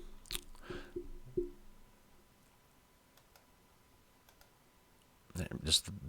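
A computer mouse gives a few faint, scattered clicks in a quiet room, with speech before and after the clicks.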